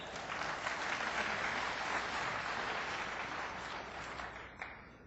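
Audience applause at a software company keynote, a dense, steady wash of many hands clapping that holds for several seconds and then thins slightly toward the end, with no talk over it.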